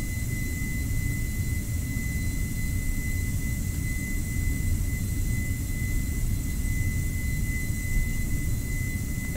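The jet engines of a Lufthansa Boeing 747-400 in X-Plane 11 roar at takeoff power, giving a loud, constant, broadband rumble with a steady high whine held throughout.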